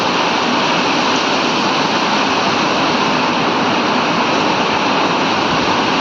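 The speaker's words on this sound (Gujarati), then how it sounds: "ભાઈ ચાલુ થઈ ગયું છે, ફૂલ વરસાદ ચાલુ." Heavy rain pouring down onto a flooded main road in Anand, a loud, dense and unbroken roar of water with no pauses or voices.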